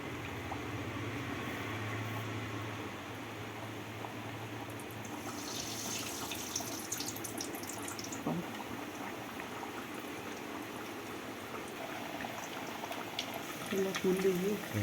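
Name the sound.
kachori frying in oil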